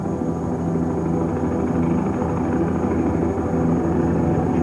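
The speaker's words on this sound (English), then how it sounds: "Chopper's coming." A helicopter drones steadily overhead, a loud continuous rotor-and-engine rumble that stays fairly even and close throughout, with no voices over it.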